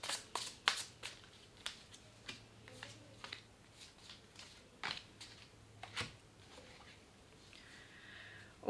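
Tarot cards shuffled by hand, a faint series of soft, irregular riffling flicks and taps in a quiet room, with no talking.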